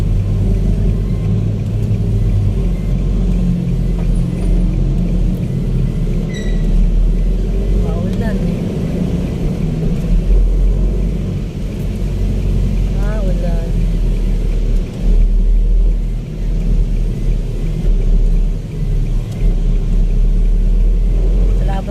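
Heavy road traffic on a wide city road in the rain during the afternoon rush hour, with a steady low engine rumble and tire hiss throughout and passing vehicles close by.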